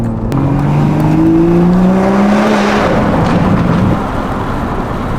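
A Toyota A91 Supra with carbon fiber wind deflectors drives into a tunnel. Its engine note climbs steadily and loudly, then spreads into a broad, echoing roar.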